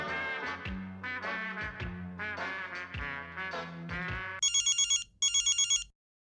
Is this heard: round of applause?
no